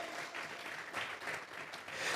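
A church congregation claps together in steady, dense applause that fills the room without pause, with no voices rising above it.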